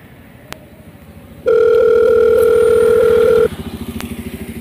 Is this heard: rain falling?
no